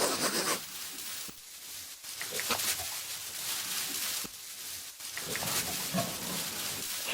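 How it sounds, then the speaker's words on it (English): Close, busy snuffling and rooting noises from pigs in a pigsty, with scratchy rubbing and soft grunts continuing throughout, no talking. "Look at all these pigs in their pigsty. They're all sniffing around with their noses."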